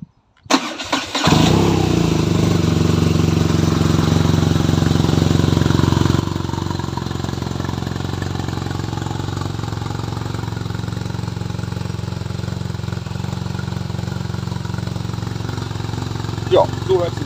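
A cold BMW R nineT Racer motorcycle engine cranks and fires, revs briefly, then settles into a steady, loud, close idle that continues throughout.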